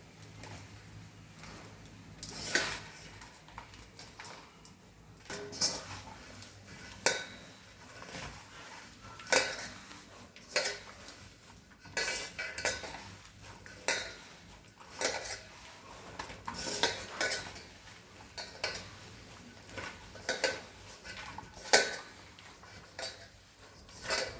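Soft scraping and clinking of a spoon against a pot while churma, also called malida, is mixed, with irregular knocks and taps spread over the span, fairly quiet and without talk.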